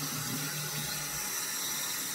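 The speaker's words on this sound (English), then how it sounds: "so we're going to turn on the water." A bathroom tap runs water in a steady, hissing splash, constant and moderately quiet throughout the short stretch with no speech.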